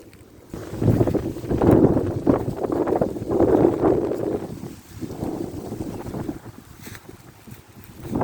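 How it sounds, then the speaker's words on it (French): Gusts of wind from Storm Dennis buffet the microphone in rough, rumbling waves that swell and ease over several seconds. "on va peut-être mieux enregistrer le vent"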